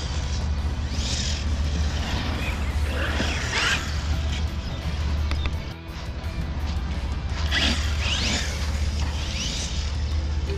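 Metallic whirring and clattering from the differentials of a 6S brushless RC car running on D-boot tyres, a continuous mechanical rattle with scrapes and surges and no talk over it.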